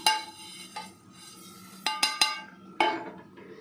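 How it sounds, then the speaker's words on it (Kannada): Coriander seeds dry-roasting in a pan while a metal spoon stirs and scrapes, giving a few sharp clinks and rattles over a soft dry hiss, close and clear with no talk. "ಅಲ್ಲಿ ತನಕ ಹುರ್ಕೊಳ್ಳಿ ಕೊತ್ತಂಬರಿ ಕಾಳು"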